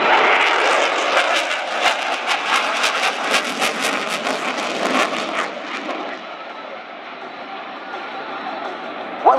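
Italian Air Force Eurofighter Typhoon jet in a display flight after a maximum performance takeoff, turning tightly: a loud, broad engine roar that pulses and fluctuates, then eases into a steadier, softer rumble as it moves away.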